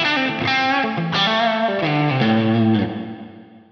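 An electric guitar played through a Line 6 Helix effect at a 50% parallel mix of dry and effected signal, a short melodic phrase of distinct notes that rings out and fades alone.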